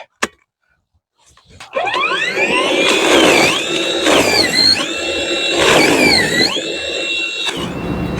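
A MELLIF 20V cordless snow shovel powered by a DeWalt 4Ah battery whirs loudly and steadily through very heavy snow, its motor pitch dipping and rising as it bites into the load, with no talk over it.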